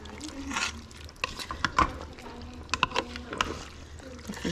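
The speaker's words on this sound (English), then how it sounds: "Stir that around." A spoon stirs sweet and sour sauce in a pot with uneven sloshing, scraping and clinking strokes that rise and fall, close to the listener, with faint background sounds between the strokes.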